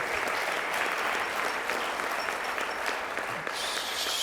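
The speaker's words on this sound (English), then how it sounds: "She really deserves applause for that, to be sure." An induction ceremony audience claps warmly in a sustained, even round of applause that fills the room throughout and eases slightly near the end, with no speech on top.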